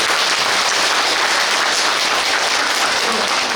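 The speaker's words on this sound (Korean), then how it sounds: "오늘 영광이 주신 신부님께 다시 한번 큰 박수 부탁드립니다." Audience at a Catholic church faith-school lecture applauding the visiting priest, a continuous even wash of many hands clapping, loud and unbroken throughout.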